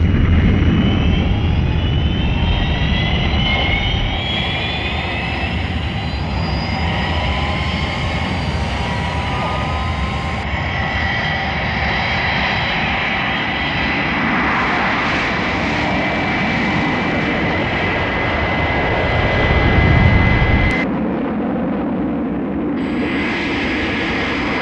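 Fireflash jet airliner from Thunderbirds taking off at full power: a loud, steady roar of jet engines holding throughout, with rising whines layered over the rumble and a brief surge near the end.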